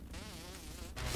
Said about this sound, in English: Ugh, mosquitoes, leave me alone.